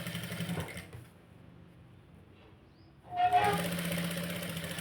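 A sewing machine stitches a princess cut blouse, its fast rhythmic whirring running near and steady, then cutting out for about two seconds of near silence before starting up again just as loud.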